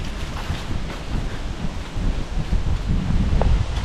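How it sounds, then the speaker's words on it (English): Strong wind gusts through pine trees along a forest trail in Mohican State Park, a steady, loud, rumbling rush with buffeting against the microphone and no voices. "Wind's really whipping in."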